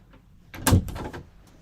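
A door swings shut with a single firm thud and a short rattle, close and fairly loud, after a quiet moment and fading quickly into near silence.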